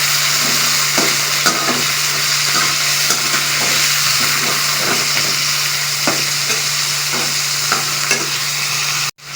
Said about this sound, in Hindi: चिकन हमने इसके अंदर डाल दिया। अब मिक्स कर रहे हैं।